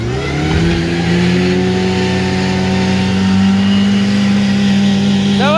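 An off-road vehicle's engine revs hard and steadily as a grey car strains to pull free, a loud sustained mid-pitched roar with rising and falling pitch near the microphone.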